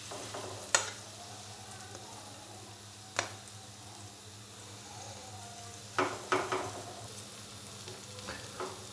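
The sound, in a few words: potato and cabbage snacks frying in oil on medium-low flame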